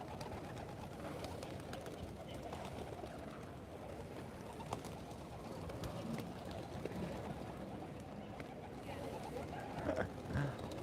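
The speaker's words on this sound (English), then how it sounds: "how can you not love pigeons?" Pigeons coo softly amid a dense, steady outdoor wash of ambient noise, the calls low and partly buried rather than standing out clearly.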